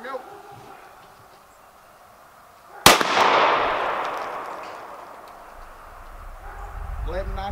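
A single loud 9mm pistol shot fired with Sig Sauer V-Crown 124 grain ammunition, a sharp crack followed by a long echoing tail, with people talking quietly before and after.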